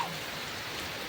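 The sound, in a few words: rain falling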